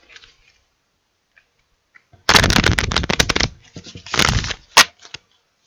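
Rider-Waite tarot cards being shuffled by hand: two loud bursts of fast riffling close to the mic, each lasting about a second, then one sharp snap near the end. Nothing else is heard.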